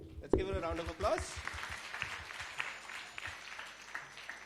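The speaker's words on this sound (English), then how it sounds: "Let's give her a round of applause." An audience at an inter-school debate competition claps briefly after a short voice, the applause rising and settling into scattered clapping with background murmur.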